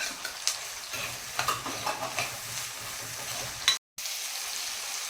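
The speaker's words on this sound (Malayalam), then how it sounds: "മൂന്ന് പച്ചമുളക് അരിഞ്ഞ് വെച്ചിട്ടുണ്ട്, അത് ഇട്ട് കൊടുക്കുക." Chopped green chillies for bitter gourd curry go into hot oil, giving a moderate sizzle with light stirring and scraping taps near the pan, then a brief gap of silence before the frying continues.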